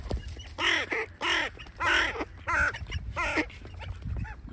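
Crows caw repeatedly outdoors near ducks and swans, giving five or six harsh, descending calls in a loose rhythm at moderate distance, with quieter calls trailing off at the end.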